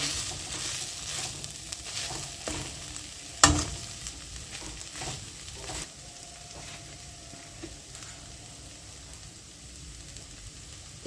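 Soybean momo filling sizzles steadily in a frying pan while it is stirred, with scraping strokes and one sharp knock partway through, close and fairly loud with no talking.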